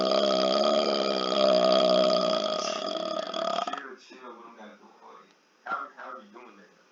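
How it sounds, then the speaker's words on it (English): Deliberate swallowed-air burping: one long, loud, drawn-out belch lasting several seconds, followed by a person speaking with a brief laugh. "how are you burping like this?"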